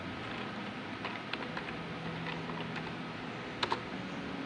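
A computer keyboard typing the ipconfig command into a Windows command prompt during router setup, with quick light key clicks through a steady low background hum and two sharper taps near the end.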